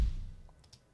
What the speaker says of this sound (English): And then layered with the Ice Rhythm Kick.